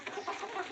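A short, fairly soft burst of clucking from a gavran country hen, a few quick rising notes close by with no talk.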